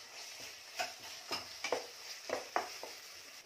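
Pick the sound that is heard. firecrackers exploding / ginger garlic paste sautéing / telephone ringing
ginger garlic paste sautéing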